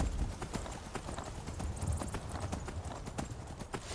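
Rapid, steady clip-clop of horse hooves at a trot in Skyrim, close and fairly loud, with a thudding low rumble beneath.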